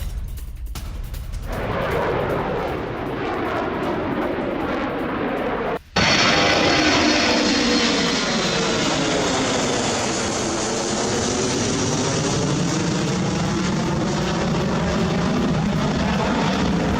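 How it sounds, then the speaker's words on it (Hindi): A B-2A nuclear bomber flies overhead with a loud, steady roaring engine wash that jumps sharply in level partway through and then holds a sweeping, continuous drone. "यूरोप में न्यूक्लियर बॉम्बर"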